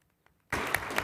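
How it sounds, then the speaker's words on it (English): After a brief near-silence, a room breaks into steady applause honoring someone's birthday at a college governing board meeting, a sustained wash of clapping lasting to the end. "join me in a round of applause for him real quick"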